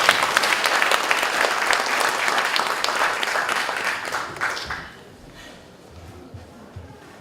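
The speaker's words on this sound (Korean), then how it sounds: "좀 뜨거운 박수로 감사합니다" A congregation gives warm applause for an outgoing orphanage director at a farewell and inauguration thanksgiving service, a loud, dense burst of clapping that fades out after about five seconds into quiet room noise.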